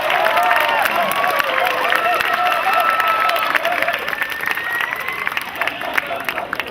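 A crowd at an outdoor football barbecue gives a sustained round of applause and cheers for a first-year Villa Park quarterbacks coach, steady and dense throughout with a murmur of voices mixed in.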